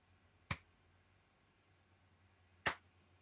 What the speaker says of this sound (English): So is it my turn to do a clap test?